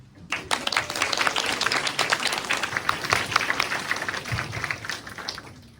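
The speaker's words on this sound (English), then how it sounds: "Please welcome him with a big round of applause." Crowd at a school math and science symposium claps to welcome the principal, a busy, fairly loud wash of hand claps that starts abruptly and holds steady before easing slightly.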